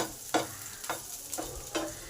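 Onion, garlic and chilli fry in a pan with a quiet sizzle, broken by four evenly spaced scraping stir strokes.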